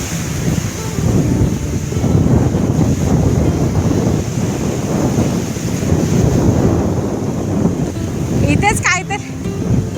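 Loud sea waves crash and roar continuously at Uran beach, a dense rumbling surf mixed with buffeting wind on the microphone, and a short burst of voices near the end.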